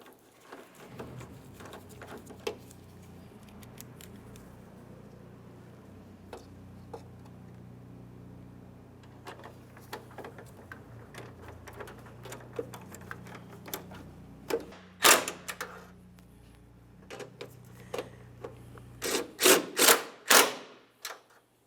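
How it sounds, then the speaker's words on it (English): Small 11mm mounting nuts being snugged up on a 2003-2011 Mercury Grand Marquis corner light, quiet scattered ratchet-like clicks that grow louder into sharp bursts near the end. "Once they're started, we can snug them up."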